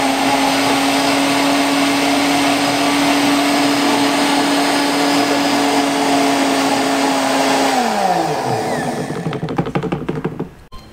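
Blender grinding dried moringa leaves into powder, a loud steady high-pitched whir that winds down near the end, followed by a few knocks and rattles.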